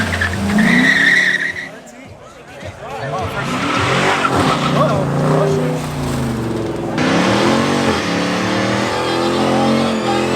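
A car doing a burnout on private property, tires squealing loudly and continuously over a revving engine, close by, with voices mixed in.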